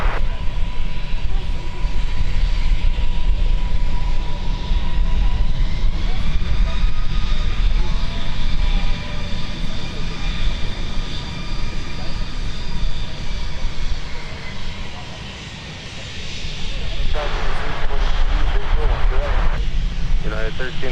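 A jet airliner roars steadily on its takeoff run from runway 17 at Minneapolis–St. Paul airport, a loud, sustained broadband engine rush with rising whine, easing then swelling again near the end.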